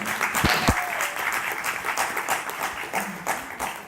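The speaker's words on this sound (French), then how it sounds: "je vais vous demander tous de l'applaudir, mais très très très très fort" Sustained applause from an audience at a French town civic meeting in Conches-en-Ouche, a dense steady wash of clapping with a couple of sharp nearby claps early on, a faint voice briefly audible beneath.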